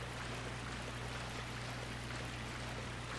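Steady flowing water in the video game Dark Souls II: Scholar of the First Sin, a constant broadband rush with a low hum underneath, unbroken and fairly quiet throughout.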